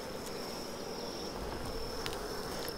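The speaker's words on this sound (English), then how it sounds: "Okay, so we have our frame of bees." Honeybees hum steadily on a frame lifted from a beehive, a close, even drone with a faint high tone running through it and no talking.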